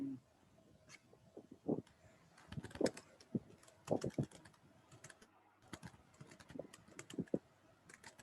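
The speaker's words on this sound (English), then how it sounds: "What are you typing?" Computer keyboard typing comes in scattered bursts of clicks with uneven rhythm, fairly close, quiet, with no talk over it.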